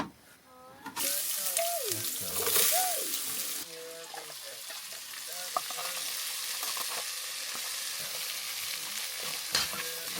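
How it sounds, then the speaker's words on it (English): Corned beef frying on a camp stove outdoors in the desert, a steady close sizzle running throughout, with voices talking briefly over it near the start. "I'm making some corned beef."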